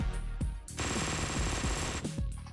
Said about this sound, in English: It's hard to tell which bullets are mine and which are theirs.